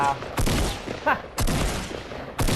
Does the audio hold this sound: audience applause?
no